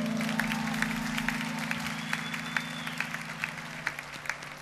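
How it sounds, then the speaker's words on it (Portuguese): An audience on a Brazilian television program claps for an introduced guest, scattered individual claps over a low steady hum, with the clapping loosening into sparser, distinct hits toward the end. "palmas aí!"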